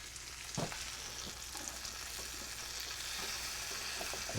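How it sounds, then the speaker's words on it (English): Kimchi ham and cheese sandwiches grill in a pan with a steady, close sizzle and a few soft clicks, alone with no talk. "we've got beautifully melted grilled cheese sandwiches. Or in this case, grilled kimchi ham and cheese sandwiches"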